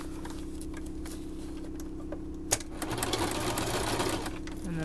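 A sewing machine runs a zigzag stitch on fabric for a baby changing mat, a steady close rhythmic whirring patter that grows slightly busier after a sharp click midway.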